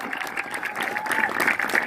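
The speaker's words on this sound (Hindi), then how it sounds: "जोरदार तालियां हो जाए नैब जी के लिए।" Applause for a coach at an honour ceremony in Sadhaura, a brief burst of crowd clapping with some cheering, a thin whistle-like tone running through it.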